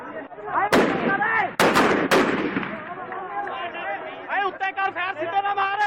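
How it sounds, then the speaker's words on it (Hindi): A few loud, sharp gunshots fired into the air crack out in close succession near the start, while several people talk and shout over and around them. "फायरिंग ऊपर करके चलाओ, सीधी फायरिंग मत करो"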